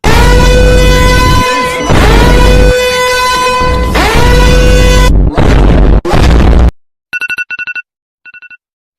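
Loud electronic alarm tones, a harsh repeating siren-like blare in long bursts, followed by a few short, clipped beeping pulses trailing off toward the end.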